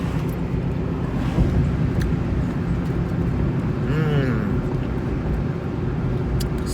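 Steady road and wind rumble inside a moving car fills the background, a constant low drone with a brief passing tonal whine midway; no clear open-window buffeting stands out.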